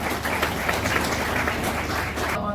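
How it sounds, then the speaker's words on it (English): Audience applause for guests on the dais at a Dempo Challengers jersey launch for the Panjim Gymkhana Members League: steady, dense clapping from a crowd, fairly loud and continuous, cutting off abruptly at the end. "Can we give all three of them a round of applause"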